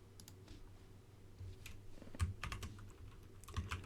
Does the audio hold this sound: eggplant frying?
no